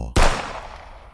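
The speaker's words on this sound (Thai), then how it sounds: "เสียงปืนก็ดังลั่นมาจากทางบ้านของตาแสออ" A single loud gunshot sound effect in a Thai ghost audio drama: one sharp, booming crack that fades into a long echoing tail, with no voices.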